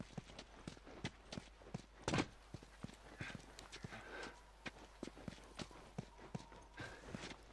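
Horse hooves clip-clop in a steady walking rhythm in the video game The Last of Us, close and distinct, with a single louder thump partway through.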